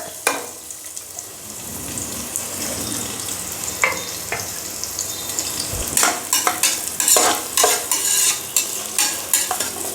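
Chopped onions go into hot oil for biryani, a loud, close sizzle that builds, with repeated metallic stirring clacks against the pan growing more frequent in the second half; no speech.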